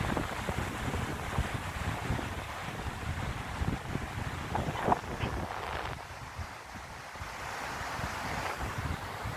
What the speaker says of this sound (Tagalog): Napakaganda ng simoy ng hangin.